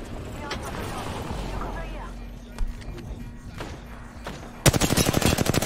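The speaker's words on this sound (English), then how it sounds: "I'm going to go out of bounds and shoot them in the back" Automatic gunfire in Apex Legends, a rapid burst of loud shots near the end, with quieter game sounds and a talking voice before it.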